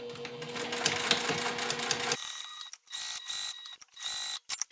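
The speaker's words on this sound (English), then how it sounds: "you're just going to sew around those three edges, of course leaving the top unsewn" Sewing machine stitching around three edges of fabric pieces for a pocket, heard as a mechanical whir that runs for a couple of seconds, then breaks into short stop-start bursts separated by brief silences.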